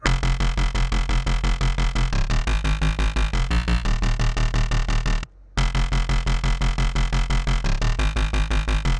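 A thick bass pluck synth made in Serum plays a fast, driving repeating pattern, loud and dense with punchy low end, pausing briefly for a moment of silence before resuming.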